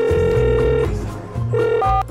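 A mobile phone call rings out in GTA 5 with electronic tones that hold, pause and then shift pitch. It is loud and close, with no voices during the ringing.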